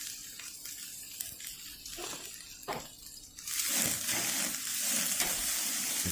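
Steak searing on a hot outdoor grill, a steady close sizzle that swells louder and brighter partway through as the meat is moved, with faint clinks of handling.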